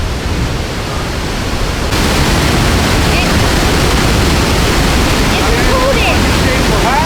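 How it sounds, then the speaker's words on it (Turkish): The Palovit waterfall in Rize roars as a dense, constant rush of water, loud and close with no break. A voice and a few faint higher sounds appear briefly near the end. "inanılmaz gürül gürül akan bir su var"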